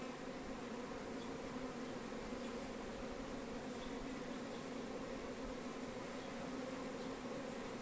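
Steady, faint buzzing of bees around hives in an apiary, with one honeybee perched on a hive lid, a continuous even drone with no voices.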